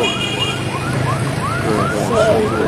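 A fire truck siren wails along a street in Barangay 71, Caloocan City, during a fire. It gives loud, repeated rising sweeps at a steady rhythm against street noise, with voices in the background.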